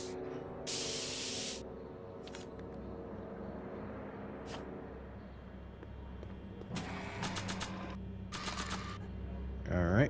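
Aerosol spray painting in the Back to the Future video game comes as several sharp hissing bursts, one early and a cluster of short sprays later, over a low, steady ambient hum.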